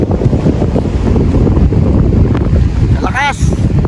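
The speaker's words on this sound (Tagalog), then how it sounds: "Grabe hangin." Strong wind at sea on a small boat heading out to catch octopus roars constantly and loudly into the microphone, with rough water beneath; a brief voice or squeal rises near the end.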